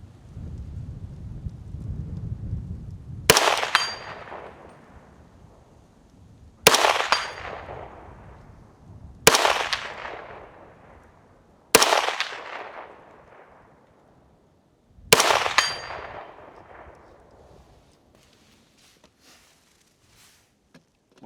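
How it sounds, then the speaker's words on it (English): Five unsuppressed supersonic rifle shots, each a sharp loud crack with a long decaying echo, fired at spaced intervals of about three seconds outdoors at a range, following a low rumbling lead-in. "going to start out with 5 supersonic rounds unsuppressed"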